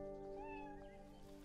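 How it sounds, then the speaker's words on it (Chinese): A small cat meows with a drawn-out, wavering cry that rises and bends over a steady low hum, fairly close and with no talk over it. "刚才一个小猫咪，你来把它吓跑了。"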